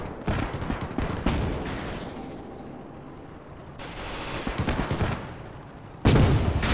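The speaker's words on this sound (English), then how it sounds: "AT gun is rather firing again" An anti-tank gun fires repeatedly in the WWII game Gates of Hell, with sharp gun reports and heavy booms amid continuous battlefield gunfire, including a loud blast near the end. No talk.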